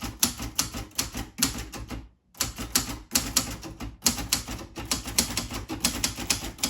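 Manual typewriter typing: quick bursts of crisp, close key strikes with mechanical clatter, broken by a brief pause and a carriage-return clunk before the rhythmic clacking resumes.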